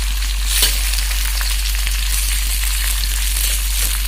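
Food frying in a pan is stirred, with a steady close sizzle and scraping throughout, a brief louder clatter near the start, and no talking.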